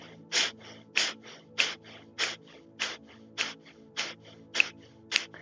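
Breaths in a virtual primal and functional movement yoga class come as a steady series of about ten short, sharp, forceful exhales or snorts, evenly spaced and close, over a faint low hum.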